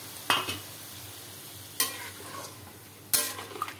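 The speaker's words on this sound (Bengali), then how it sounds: "এটাকে ভালো করে নেড়ে নিচ্ছি" Jackfruit curry (echor kalia) is stirred in a pan in three distinct strokes, each a sharp scrape followed by a soft sizzle, with quiet pauses between.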